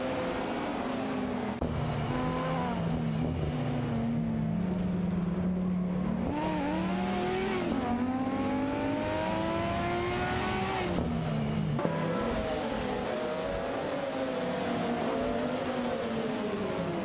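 Race cars in a racing video game, among them a Lamborghini Diablo VT, drone continuously with engine pitch climbing and falling through gear changes as cars pass one another, loud and steady with no gaps.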